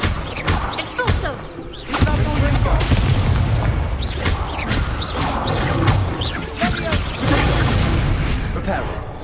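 Spell explosions and magical impacts from a Harry Potter video game, with repeated booming blasts, cracks and roaring bursts over a dense, busy game soundscape, close and loud, with a voice shouting the spell name.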